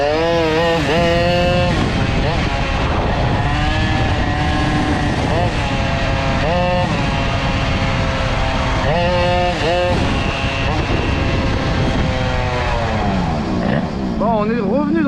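A Peugeot 103 moped fitted with a Stage6 65cc kit runs loud and close throughout, its two-stroke engine buzzing steadily and rising and falling in pitch as the throttle is blipped.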